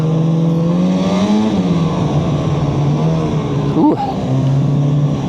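A Freeride 800 engine drones steadily while riding through a swamp on northern Wisconsin trails, its tone shifting with throttle and a brief sharp rev near the end; a rider briefly exclaims.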